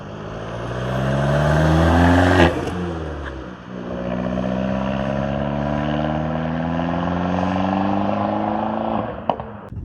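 The four-cylinder exhaust of a Fiat 500 Abarth rises under acceleration, drops sharply at a shift, then drones steadily with gear changes and a rising pitch, heard close and loud from inside the car.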